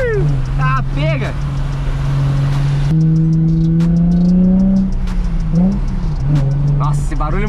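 A drift car's engine revs loudly and steadily, its pitch climbing and dropping in surges, with people talking over it.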